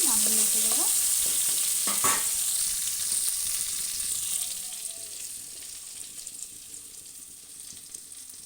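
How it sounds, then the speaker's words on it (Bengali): Eggplant pieces fry in a hot pan with a loud, steady sizzle while a utensil scrapes and stirs through them, one sharp clatter near the start, the hiss easing slightly toward the end. "বেগুনগুলোকে একটু ভালোভাবে ভেজে নামিয়ে রেখে দেবো।"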